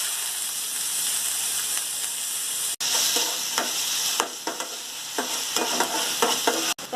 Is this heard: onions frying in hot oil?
yes